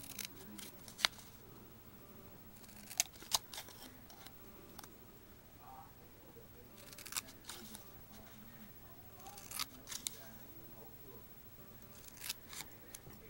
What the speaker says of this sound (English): You're going to count two and cut a slit.